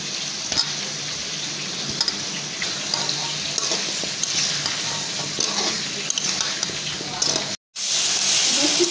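Potatoes sizzle steadily as they fry in a pan, with scraping stir strokes throughout, loud and close; the sound cuts out briefly near the end and then resumes.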